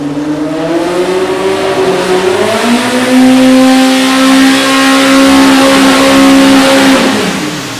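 An EMPI VW-style engine at a competitive engine battle revs hard and loud, its pitch climbing and holding high with a slight stumble of misfire near the top end, no voices over it.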